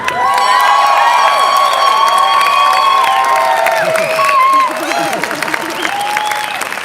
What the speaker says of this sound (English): give a big round of applause to the head of Turning Point USA, Charlie Kirk